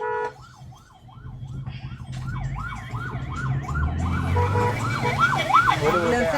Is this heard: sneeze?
no